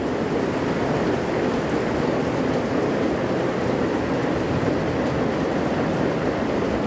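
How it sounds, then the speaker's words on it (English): Heavy rain pours down steadily onto a rock garden and plants, a dense, even, loud hiss with no breaks and no voices. "Now that's rain, y'all."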